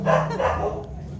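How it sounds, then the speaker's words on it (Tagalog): Dogs bark in a short burst up close at an indoor card game of tongits, loud at first and then tapering off, with no talk over them. "Pasensyaan nyo na yung mga aso ni boss."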